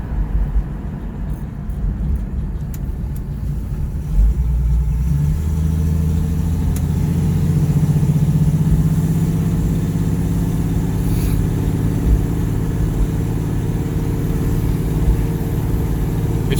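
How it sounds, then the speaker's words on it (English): A Ford Mustang with a 6-cylinder engine runs steadily at low revs, a continuous close rumble with a slight rise in pitch midway, and no talking over it. "It's got the 6-cylinder motor in it, so it is not a race car, but it's a good cruising car."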